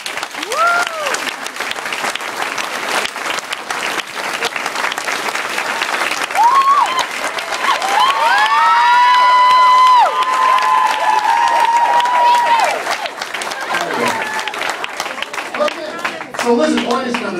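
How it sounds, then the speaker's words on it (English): A senior audience gives a sustained round of applause, dense clapping with some cheering and a few voices over it, building and then tapering off, with an overlapping tone in the middle. "before we start, they're going to give you a round of applause"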